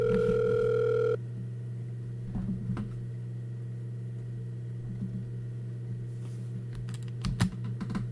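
A phone dial tone in the Doki Doki Blue Skies visual novel sounds for about a second, followed by quiet hum and a few soft taps and clicks, with no answer.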